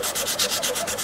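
Hand sanding on the finish of a custom 12-string Rosa dreadnought guitar body, working out runs; close, steady back-and-forth scrubbing strokes repeat in an even rhythm with no talking.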